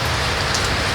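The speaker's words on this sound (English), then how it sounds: "We got to run through the rain" Steady, dense rain pouring outdoors, a constant loud hiss of drops on surfaces with no break.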